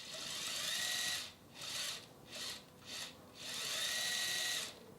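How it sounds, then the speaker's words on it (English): Rear power take-off shaft turning on a Fendt 1050 tractor, a faint whirring hum that cuts in and out in several short bursts before settling into a longer steady run. "Now, when driving, the shaft is turning with power for rear side future tools."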